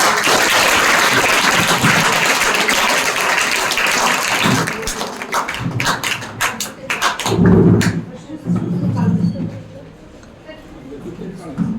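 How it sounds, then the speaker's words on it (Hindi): Children applaud loudly for guests at a school event, a dense, sustained roar of clapping that fades into scattered taps and thuds while voices speak over it. "सर के सम्मान में, आए हुए अतिथियों के सम्मान में बच्चों एक बार जोरदार ताली"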